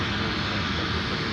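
Airbus A320neo jet taxiing at Minneapolis–St. Paul airport, a close, loud, steady engine roar with no break for the whole moment.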